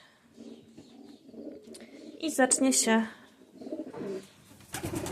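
Pigeons coo softly in low, rolling calls while a person talks nearby, with a few sharper bird chirps breaking through in the middle.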